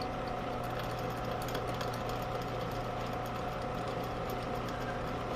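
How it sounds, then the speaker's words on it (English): A belt-driven cutter on a backyard carnival ride restoration runs steadily, a continuous mechanical hum and whir at a constant level with no pauses. "this cutter should be running a lot faster"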